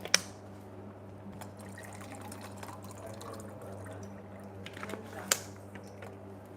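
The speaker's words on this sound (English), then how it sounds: "I'll get Anuj some water." Water is poured into a glass at an indoor gathering, a faint trickle against steady room hum, broken by a couple of sharp clinks.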